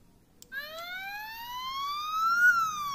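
Siren from a Siku toy police boat: a thin electronic wail sweeping slowly upward and then dipping, beginning after a click and continuing steadily at moderate volume with no talking.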